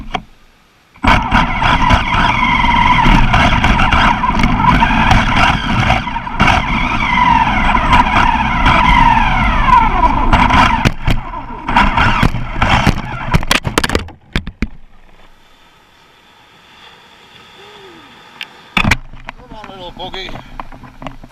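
A WLtoys RC buggy drives on sand, its small electric motor whining loudly and continuously with rising and falling pitch for about fourteen seconds before cutting out, leaving faint outdoor ambience and a brief sharp knock.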